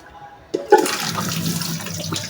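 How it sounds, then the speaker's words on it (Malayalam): Hot water gushes and drains off a pot of pressure-cooked tapioca: a quiet moment, then a sudden splash and a continuous pouring rush that runs to the end. "ഈ വെള്ളം ഊറ്റി കളയണം"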